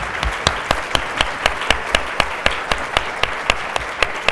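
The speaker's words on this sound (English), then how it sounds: "Give them a round of applause." Conference audience giving a panel a round of applause, a steady, fairly loud stream of claps with a distinct rhythmic clap standing out near the microphone.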